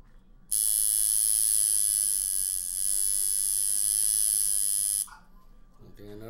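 Tattoo machine buzzing steadily at close range, a bright high-pitched electric whine lasting about four and a half seconds before cutting off, with a voice following.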